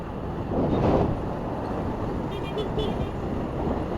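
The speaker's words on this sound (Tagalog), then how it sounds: "May hangin pa." Wind from a passing typhoon rumbling and buffeting against the microphone, with a stronger gust early on, over a low steady outdoor drone.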